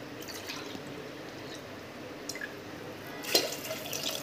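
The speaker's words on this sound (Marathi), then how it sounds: "आता यामध्ये आपण पाणी टाकणार आहे" Faint trickling and dripping of water pouring into a pot, swelling into a louder splash near the end.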